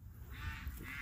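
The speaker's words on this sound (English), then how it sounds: "Noisy ducks, noisy geese." Farmyard ducks and geese honking at a beekeeper's barnyard on a chilly morning, a short burst of faint, slightly distant honks with no talk.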